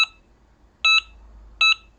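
A Delkim fishing bite alarm sounds three short, clear electronic beeps after a tap on the line: one at the very start, then two more spaced evenly about three quarters of a second apart, close and crisp against near silence.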